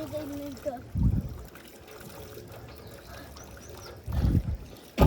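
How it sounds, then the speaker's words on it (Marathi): Water poured over feet during a wash, heard in two short splashing bursts separated by quieter background noise. "पाय धुवून घे"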